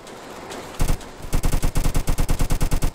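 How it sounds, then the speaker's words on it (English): Rapid automatic gunfire in the Roblox game Jailbreak, a short burst followed by a sustained string of evenly spaced loud shots, close and punchy with no voices. "That person is shooting at us."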